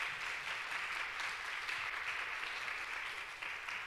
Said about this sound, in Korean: 저희 박수로 다 같이 감사함을 표현했으면 좋겠습니다